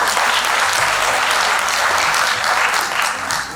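Crowd at a Hindi poetry gathering (kavi sammelan) in Ayodhya claps in a full, even burst of applause, loud and continuous throughout with no speech on top.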